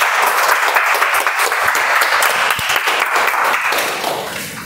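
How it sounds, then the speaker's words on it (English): An audience at a speaking club meeting gives a sustained round of applause, dense and even, loud throughout and tapering slightly at the end, with no voices over it. "Can we have a better round of applause for Ruchira"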